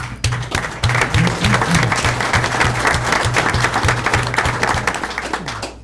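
Applause from the audience at a Tiverton town council meeting, a sustained, dense clatter of many hands that holds steady for about six seconds, with a low electrical hum running underneath.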